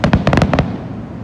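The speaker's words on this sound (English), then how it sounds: "Where are there gonna be more fireworks?" A rapid string of about eight sharp firework bangs crackles close and loud over half a second during a grand finale, then fades into a rumbling tail.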